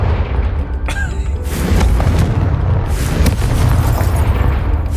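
A Confringo fire spell in the Hogwarts Legacy video game bursts into a loud, rumbling explosion. A sharp crack is followed by a sustained booming roar with a second burst partway through, heavy and close.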